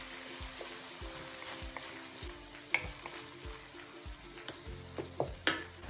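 Tuna frying in a pan for a creamy tuna pesto pasta, a steady soft sizzle with repeated stirring scrapes and a few sharper clinks of a utensil against the pan.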